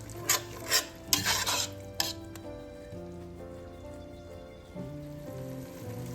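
Masala for Nellore-style Andhra mutton biryani, with tomato and yogurt, stirred in a pan: several close scraping strokes at first, then a soft, steady sizzle under faint background music.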